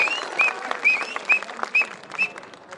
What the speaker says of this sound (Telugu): గట్టిగా చప్పట్లతో స్వాగతం సుస్వాగతం